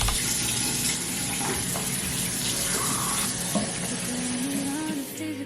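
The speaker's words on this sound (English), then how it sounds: "let me go ahead and wash these makeup brushes" Makeup brushes being washed under a running tap, a steady loud rush of water with light splashing and rubbing throughout, close by, no voices.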